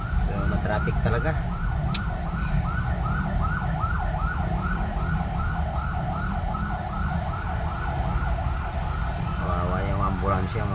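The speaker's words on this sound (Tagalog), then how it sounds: "Ambulansya mga ka-drive." An ambulance siren wails in repeated rising and falling sweeps amid heavy traffic on a Pasig River bridge between Mandaluyong and Makati along EDSA. It sounds fairly close and continuous over the rumble of engines.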